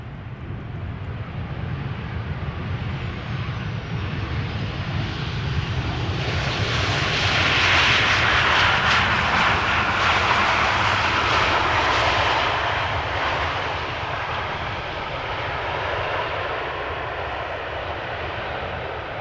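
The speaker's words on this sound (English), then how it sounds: "KLM flight 1712 arriving from Porto in Portugal. Touching down after an hour and 55 minutes of flight." A KLM passenger jet arriving from Porto touches down at Amsterdam Schiphol, its engine roar swelling loud at mid-distance, peaking, then easing into a steady rumble.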